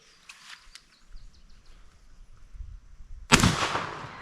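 A single sharp, loud blast from the world's longest shotgun cracks out after quiet outdoor ambience, its report ringing and decaying into a rumbling echo.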